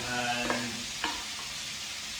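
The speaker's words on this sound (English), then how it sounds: "I have 2 pans in the go here to cook the chicken 50-50" Chicken frying in two pans on a hob turned up high, with a steady broadband sizzle throughout and a couple of brief clinks or stirs, close and fairly loud, with no talking.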